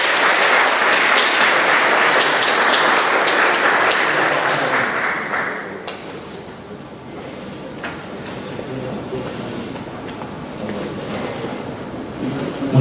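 An audience at a formal ceremony honoring a magistrate gives a full, dense round of clapping for about six seconds, then it dies away into quieter scattered claps and room murmur.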